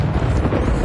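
A roaring burst of fire from the Incendio spell being cast in Hogwarts Legacy, a dense, loud, sustained whoosh of flame that fills the whole short moment with no voices over it.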